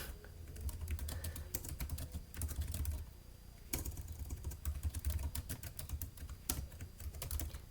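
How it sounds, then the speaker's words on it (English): Typing on a computer keyboard, a steady run of close, distinct key clicks with a few brief pauses, no voices. "I better type this out."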